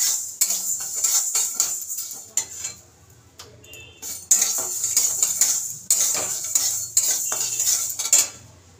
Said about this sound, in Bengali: ওই জন্য সবসময় এভাবে নাড়াতেই হবে খুন্তি